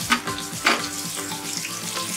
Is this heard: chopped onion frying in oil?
yes